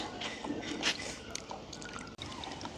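Water splashes and drips as green mangoes are washed by hand outdoors in a village, making faint close trickling and sloshing sounds over quiet background noise.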